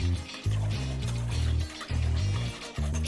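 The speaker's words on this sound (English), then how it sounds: "And then whisk all that together." Eggs and cake batter are whisked in a bowl for chocolate teacake cupcakes, making close, rhythmic sloshing strokes with a few brief pauses between bursts.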